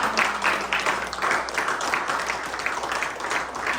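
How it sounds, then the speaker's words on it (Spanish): A church congregation claps together in a steady, rhythmic burst of applause, moderately loud and continuous throughout, with no voices clearly standing out above it. "Un aplauso a la gloria de Dios."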